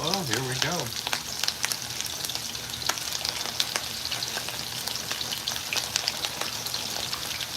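A steady, close crackling sizzle of Swedish meatballs frying in hot vegetable oil, with dense popping and spattering throughout and a brief warbling tone at the start.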